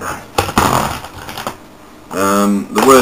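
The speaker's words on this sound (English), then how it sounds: "I've just got to type something in the little box up here" Someone types on a computer keyboard in quick clattering bursts of key clicks, close by, and a voice comes in near the end.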